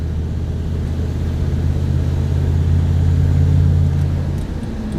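A 6.5 diesel truck with a manual wastegate and new turbo wheel pulls at full throttle in overdrive, a loud, steady engine drone from inside the cab that eases slightly near the end.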